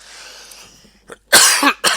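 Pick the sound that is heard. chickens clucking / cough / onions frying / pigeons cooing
cough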